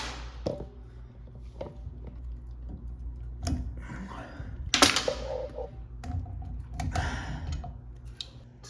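A stubborn shower pressure balance cartridge is twisted and worked loose, producing scattered plastic-and-metal clicks, creaks and scraping bursts close by over a low background hum, with no voices.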